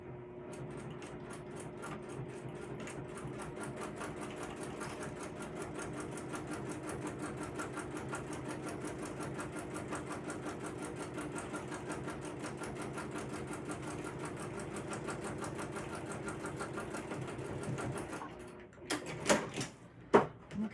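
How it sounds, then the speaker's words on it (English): Sewing machine topstitching along the edge of a crossbody bag, running as one long steady rapid stitching burst, fairly close, then stopping with a few clicks and handling knocks at the end. "Now I'm just gonna top stitch."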